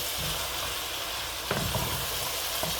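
Chicken curry sizzling steadily in a hot pan as it is stirred, a continuous close frying hiss with a few soft scraping knocks of the spoon against the pan.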